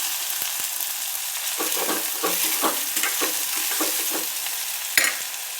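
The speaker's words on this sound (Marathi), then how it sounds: "हे बघा टमाटा छान फ्राय करून घ्यायचा आहे." Tomato fries with onion in a pan for a chana dish, a continuous close sizzle broken by soft scraping stirs of a spatula and one sharper knock near the end.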